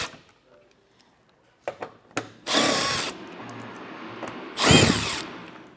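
A power tool whirs in two bursts, a short one and then a longer one, while removing 10mm bolts from underneath the bumper of a 2025 Chevrolet. Clacks and handling noises come before and between the runs.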